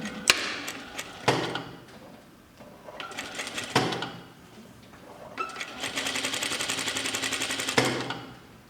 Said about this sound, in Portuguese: Então, eu vou costurar aqui.